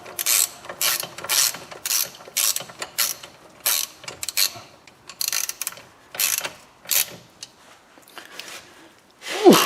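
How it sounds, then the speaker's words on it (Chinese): A wrench tightens bolts on a Chevrolet Cruze front wheel bearing, giving a run of close, rhythmic ratcheting clicks in short repeated bursts with brief pauses, followed by a louder metallic knock at the end. "咱们直接用扳手给它加固紧"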